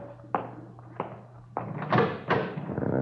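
Radio-drama sound effect of a door being opened: a few sharp knocks and thumps followed by a louder handle rattle and the creak and thud of the door swinging, close and alone without speech.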